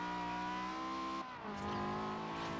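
A loud car engine in the Forza Horizon racing game holds a high, steady whine, then dips briefly as the driver shifts and surges again, close and continuous with no talking.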